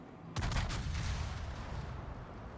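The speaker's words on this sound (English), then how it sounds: "Only able to get a rear guns off, but ooh, there's a Citadel" Warship main guns fire in a naval combat video game, a German battleship on a cherry-blossom map: one loud, sudden boom, then a long, heavy rumbling roar that slowly fades, with no voices.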